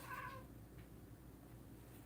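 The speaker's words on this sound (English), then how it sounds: "the cat is going nuts over there" A house cat lets out one drawn-out, fairly close meow, a faint second cry following shortly after against a quiet room hum, with no one speaking.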